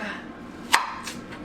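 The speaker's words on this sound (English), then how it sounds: "I'm gonna cut this onion." A kitchen knife chops through an onion on a cutting board, one sharp distinct knock followed by a fainter second cut against a quiet background hum.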